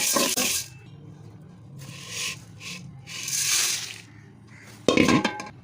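Urad dal is roasted in ghee in a pan and stirred, giving a spoon or spatula scraping and rubbing sound in several separate bursts. The bursts have quiet gaps between them, and a sharper clatter comes near the end.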